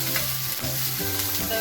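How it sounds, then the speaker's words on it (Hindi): Garlic and ginger sizzle and fry on a hot tawa while being stirred, a close, steady crackling hiss with no voices over it. "मैंने लहसुन और अदरक लिया है, तो थोड़ा सा मैं ब्राउन करूँगी"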